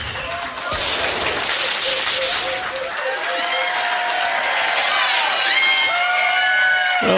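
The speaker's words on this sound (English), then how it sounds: "Give them a round of applause" A crowd at a pub trivia quiz on the Isle of Ely cheers and applauds a winning team, loud and close, with shouts, whistles and excited voices mixed into the clapping.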